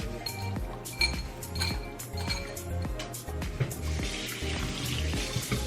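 A spoon clinks repeatedly against a bowl as ingredients seasoned with salt and pepper are mixed for orange chicken, giving sharp, irregular taps over a soft background of kitchen noise. No one speaks.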